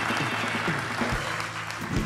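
Studio audience applause at a live talk show, a dense burst of clapping at steady loudness for about two seconds, with some crowd noise mixed in.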